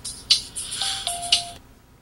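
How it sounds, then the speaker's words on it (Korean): An incoming-call ringtone plays on a Samsung Omnia mobile phone, a short bright electronic melody of several quick chiming notes ending cleanly, close and clear with no talk. "전화벨이 울리며 상대방의 휴대폰 번호가 화면에 나타납니다"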